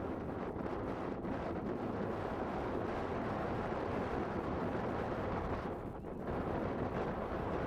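Steady, strong wind buffeting the microphone at an outdoor youth soccer match at the Dallas Cup, a continuous broad roar that barely dips for a moment before surging back.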